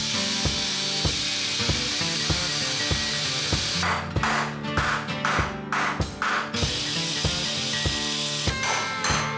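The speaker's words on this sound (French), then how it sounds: "j'ai sorti la disqueuse pour retirer ces têtes de vis" An angle grinder cuts off screw heads on a rusty Citroën 2CV, a loud, harsh grinding whine under rhythmic mechanical knocks, with rasping bursts in the middle as the disc bites the metal.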